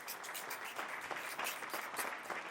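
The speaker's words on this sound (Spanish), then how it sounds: "Un aplauso para ella." An audience applauds for Ana Reyes, a digital marketing and artificial intelligence expert, as she is introduced at a talk. The clapping is quiet and continuous, with dense, even claps throughout.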